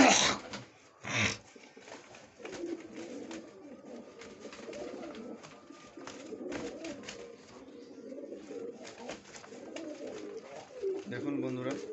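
Pigeons coo in low throaty murmurs as two young birds fight, with wing flaps and scuffles close by, while someone talks over them throughout.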